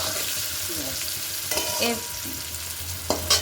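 Partly cooked potatoes stir-fried over a high flame, a steady close sizzle broken by spatula scrapes and a few sharper clinks toward the end.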